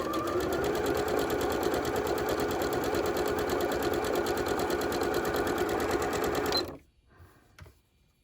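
A sewing machine chain-stitches quilt triangles for a Greek square block, running loud and continuous for about six and a half seconds before cutting off into near silence.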